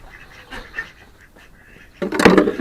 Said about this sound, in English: Mama duck.